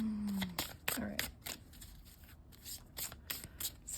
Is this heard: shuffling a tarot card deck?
yes